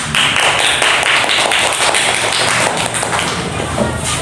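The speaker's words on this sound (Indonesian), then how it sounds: "Tepuk tangan dulu" Classroom applause fills the room, a dense, loud burst of many hands clapping together that holds steady for a few seconds before easing slightly, with no talking.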